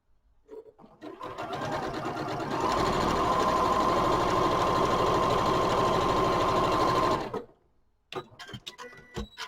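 A domestic sewing machine chain piecing pairs of quilt squares for a scrappy four-patch block, stitching in a steady, close, mechanical whir that runs for several seconds and then stops, with brief handling noises afterward.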